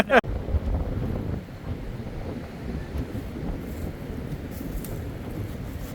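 Cold wind blows outdoors across an open field, a steady low rumble of gusts buffeting the microphone throughout.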